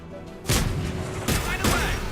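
Anti-aircraft guns fire in the Mass Effect 3 video game, three heavy booming bursts spaced about a second apart, loud and close over a steady low hum.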